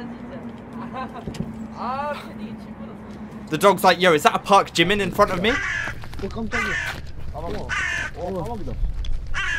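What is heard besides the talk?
crows cawing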